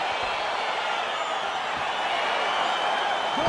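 Arena crowd in the UFC 4 fighting video game as a bout gets underway, a steady murmuring roar with occasional cheers, heard alone and fairly distant.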